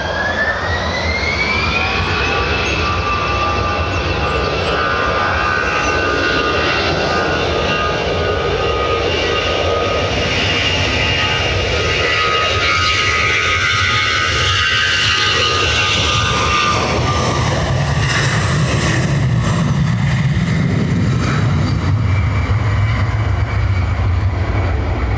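An Aer Lingus jet departs Dublin Airport for Manchester, its engines producing a loud, sustained roar layered with rising whining tones that flatten out, then the pitch drops and a deep rumble takes over as the aircraft climbs away, with no voices.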